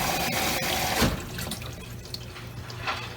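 Water runs and splashes as a Maytag washer fills during an Affresh cleaning cycle, a steady close trickle with light drips and a brief thud near the start.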